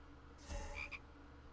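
A single frog croak from a pet battle video game, a short close burst standing alone over a quiet game background.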